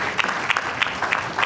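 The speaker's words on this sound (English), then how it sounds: "So another round of applause for Mrs. Obla, please" Audience applause at a book presentation: a brief, steady patter of many hands clapping, with a few sharper bursts standing out, heard briefly.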